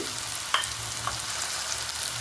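Sambar powder, chilli powder and cumin powder fry in a hot pan over a low flame, giving a continuous soft sizzle with one or two light utensil taps and no talking.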